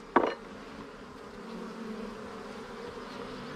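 Honeybees hum as a low, steady drone from an open hive during an inspection, after a brief sharp knock at the start.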